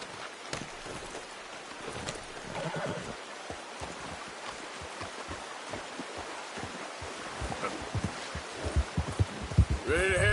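A horse in the video game Red Dead Redemption 2 clops along with a steady rhythm of soft hoof thuds over faint outdoor ambience, then gives a short whinny right at the end.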